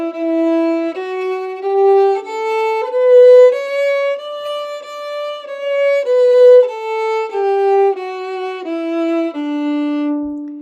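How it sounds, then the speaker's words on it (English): A violin bowed with the fingers landing slightly after each bow stroke, giving a fluffy, unclear start to every note in a slow scale climbing up and back down, played alone and fairly close. "Now that sound was caused by putting the fingers down slightly after the bowing."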